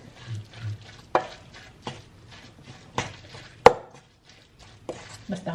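Spinach being mixed with 250 grams of ricotta cheese in a bowl, giving soft wet stirring and scraping sounds with a few sharp knocks of the utensil against the bowl, close and fairly loud, no talk.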